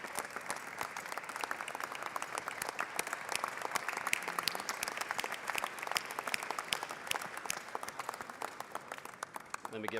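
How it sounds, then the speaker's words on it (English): A crowd in the Texas House chamber gives a sustained, dense round of applause at a retirement ceremony, with many hands clapping steadily and evenly throughout. "Give Mrs. Tinderholt a round of applause,"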